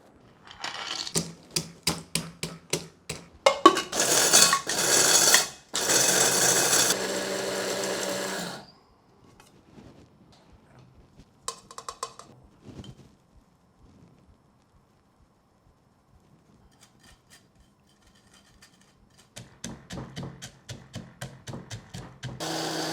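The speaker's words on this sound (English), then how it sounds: "and then finally a spice grinder so that it gets a bit finer" An electric spice grinder whirs through Chinese five spice in two loud, steady bursts, preceded by a run of sharp rhythmic clicks; after a long quiet stretch, lighter tapping and rattling return near the end.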